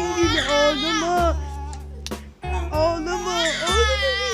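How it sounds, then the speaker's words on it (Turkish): An infant wails in repeated loud, close cries, broken by a brief gasp pause midway before the crying resumes with the same urgent rhythm. "Ağlattın çocuğu."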